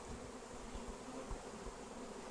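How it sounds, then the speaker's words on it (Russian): A swarm of honeybees being collected from a roof in England, a dense, steady, quiet buzzing hum with a few closer bees passing, and no voices. "Пчелы абсолютно спокойные."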